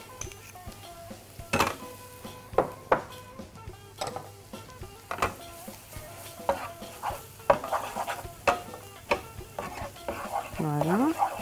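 Potatoes and tomato paste sauté in a pan, with a soft sizzle beneath frequent scraping and stirring clinks of a utensil against the pan, close and busy, with a brief higher tone near the end.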